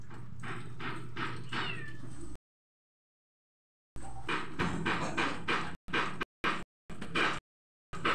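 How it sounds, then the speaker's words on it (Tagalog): Cats meow outdoors in several close, insistent bursts, broken by abrupt stretches of total silence between them. "May mga pusa dyan na malaki,"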